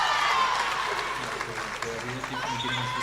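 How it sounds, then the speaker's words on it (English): Wellington East supporters in a school stadium crowd at a final keep up a steady wash of cheering and clapping, distant and continuous, with commentary voices talking over it. "Wellington East in the crowd. Seems to be making all the noise."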